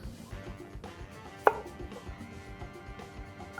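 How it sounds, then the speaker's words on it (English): A knife chops celery on a cutting board, giving soft irregular taps with one sharper, louder chop near the middle. The work sounds close and quiet, and no one speaks. "Get our celery all cut up here."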